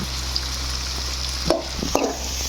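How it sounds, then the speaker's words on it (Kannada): Homemade pickle mixture sizzles in a hot pan with a constant close frying hiss, broken by two sharp stirring scrapes near the end; there is no speech. "ಚೆನ್ನಾಗಿ ಫ್ರೈ ಆಗ್ತಿದೆ."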